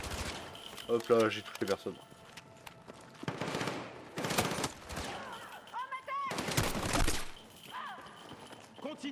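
Gunfire from the video game Battlefield 6, with bursts of shots and automatic fire spread across the scene amid game sounds, while a voice talks over parts of the action.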